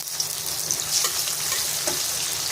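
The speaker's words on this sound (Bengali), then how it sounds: "এই পেঁয়াজটা একটু ভাজা ভাজা মতন হবে, ক্যারামেল হবে বলে।" Onions fry and caramelize in a pan with a little sugar, making a constant loud hiss and sizzle with occasional stirring scrapes, close up.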